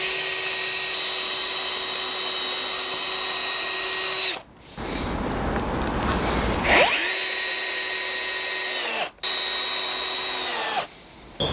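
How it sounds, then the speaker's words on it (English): A power drill drives screws into a wooden sawhorse leg, its high motor whine in close, loud bursts separated by short pauses and a brief rougher grinding stretch in the middle; no voices. "I'm going to be screwing it to the second leg along"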